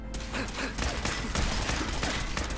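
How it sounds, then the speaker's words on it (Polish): Rapid gunfire from a Fallout 4 video game battle, a dense continuous fusillade of overlapping shots and mechanical clatter filling the whole stretch at steady loudness. "Parę strzałów w głowę, parę strzałów w głowę."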